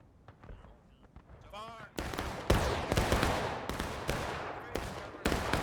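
Musket volleys in the Civil War game War of Rights crack out in sharp, echoing reports at varying distances during a large multiplayer battle, with scattered shots followed by heavier firing while a commentator talks over them.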